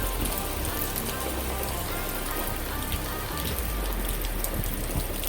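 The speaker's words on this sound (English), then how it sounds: "So there's all the rain coming down." Heavy steady rain pouring down during Hurricane Sally, a dense continuous hiss of drops drumming on surfaces nearby, with no voices over it.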